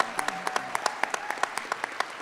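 Audience clapping and cheering at a furry convention's closing ceremony, a steady run of sharp claps ringing out close and lively for a couple of seconds.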